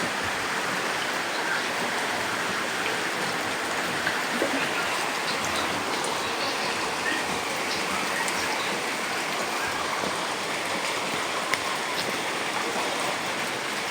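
Floodwater pours into a house during a flood, a steady dense rushing and splashing wash that carries on without a break and stays fairly loud the whole time.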